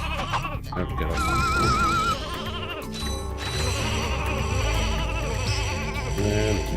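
Sheep bleating inside the Ratchet and Clank 2: Going Commando video game, repeated wavering bleats over a dense, continuous bed of game music and effects.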